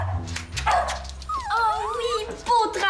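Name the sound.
dog Nestor barking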